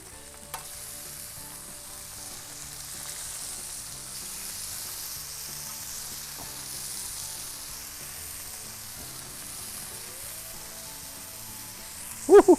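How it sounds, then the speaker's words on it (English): Brisket burgers sizzle and crackle steadily in a hot pan, a constant frying hiss with occasional scraping near the end. "Man, that sizzle, you know it's gonna be good."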